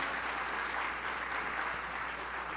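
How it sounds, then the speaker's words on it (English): An audience at a conference plenary session applauds Congressman Earl Blumenauer, a steady, even wash of clapping that sounds distant and soft, with no talking. "Let's give him an extraordinarily important round of applause."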